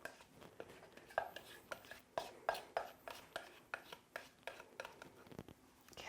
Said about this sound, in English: And we're gonna gently stir this together.